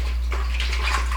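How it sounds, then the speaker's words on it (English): Red peppers are rinsed under a running kitchen tap, a steady close rush of water with light splashing over a low hum. "Rinse my red pepper, which is my tatache."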